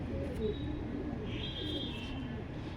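Soft, low cooing close by from a high-flyer breeding pigeon, a murmuring coo with a faint chirp over quiet background.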